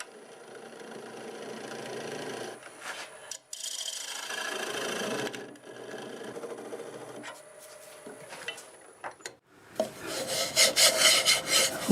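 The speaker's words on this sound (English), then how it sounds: "See if I can get rid of that little nub with the negative rake scraper." Negative rake scraper shaving wood on a spinning lathe, a steady close rasping scrape that stops and restarts in several passes, ending in a louder, harsher burst of cutting.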